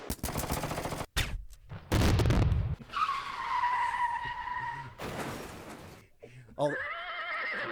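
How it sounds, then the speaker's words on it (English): A horse neighs in a whinnying call with a descending, wavering pitch, set among loud bursts of gunfire, skidding and engine noise, with other clattering sounds before and after it. "They brought a horse."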